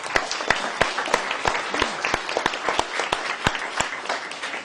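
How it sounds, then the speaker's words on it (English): An audience at a campaign announcement applauds a county official, scattered sharp hand claps mixed with steady group clapping, moderately loud and sustained. "We need to give James Nolan a round of applause."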